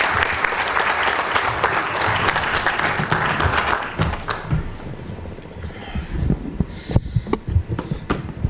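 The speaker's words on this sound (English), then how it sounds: "A round of applause for our guest of honor." Audience applause at a conference in Goa for a guest of honor, dense clapping for about four seconds that thins into scattered claps as the room settles.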